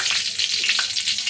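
Tempering for chicken biryani sizzling in hot oil, a close, steady hiss of frying with a couple of soft stirring scrapes and no voices.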